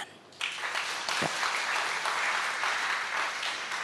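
Congregation applause during a church sermon: dense, steady clapping swells in under a second and carries loudly and evenly to the end.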